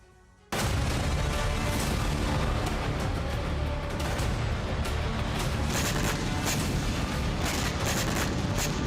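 A Russian drone crashes onto a city street in Poland, a loud, continuous roar of blasts and crackling bursts, dense and rumbling, running steadily after a sudden start, with sharp cracks layered over deep booms.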